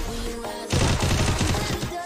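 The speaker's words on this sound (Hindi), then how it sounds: "यहाँ पे आर्यन ने लगा दिया ये वाला हेडशॉट" A video-game firefight, with a burst of rapid gunfire opening into a dense, loud volley of overlapping shots after a quieter stretch of game sounds, close and continuous.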